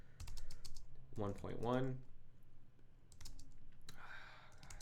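Computer keyboard typing while a folder is renamed, with bursts of quick, close, light key clicks between and around someone speaking.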